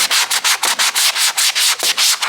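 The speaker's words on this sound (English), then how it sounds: "So you're gonna go in with the abrasive part of the sanding pad," An abrasive sanding pad is rubbed by hand over a primed car engine bay, making loud, rapid back-and-forth scratchy strokes in an even rhythm, close up with no talk.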